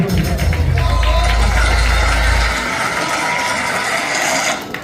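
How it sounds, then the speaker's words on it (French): Audience applause at a live event, dense clapping under a strong low rumble for the first half, continuing steadily with a voice heard over it. "Est-ce qu'on peut applaudir?"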